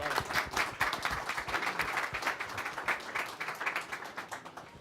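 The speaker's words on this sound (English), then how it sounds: "A round of applause, please, folks, for Carlos Moreira" A room of attendees at a Davos gathering gives a steady, dense round of applause for the moderator, Carlos Moreira, with many hands clapping continuously at moderate loudness and no talk over it.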